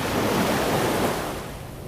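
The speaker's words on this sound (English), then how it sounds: "The sea is surging, but the seabed is tranquil." Sea waves surging onto a beach, a loud, close, continuous wash of surf that fades slightly toward the end, with no voices.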